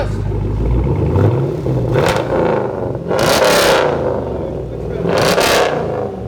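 A 2011 Chevy Camaro SS V8 with dual straight-pipe exhaust, mufflers and resonators removed, barks through several loud throttle blips with rumbling idle between them, close by, with voices talking over it.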